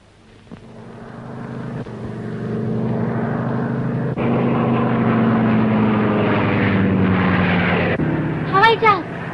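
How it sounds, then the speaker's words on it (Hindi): A propeller airplane drones steadily overhead, its engine hum rising in and holding loud and near, with a brief burst of higher-pitched sound near the end. "हवाई जहाज।"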